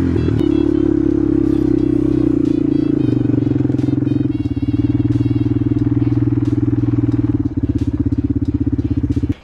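A BMW E30 engine starts and settles into a loud, steady idle with a rough, pulsing rumble, very close, with light clattering on top.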